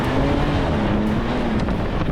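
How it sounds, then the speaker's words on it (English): A 2025 Ram 1500 RHO pickup with a 3-liter twin-turbo straight-six launches hard on loose dirt, a loud continuous engine drone rising slightly in pitch, mixed with heavy wind and road rumble close to the microphone. "let's give this a whirl and see what this 3-liter twin-turbo straight 6 with 540 horsepower and 521 pound-feet of torque can do"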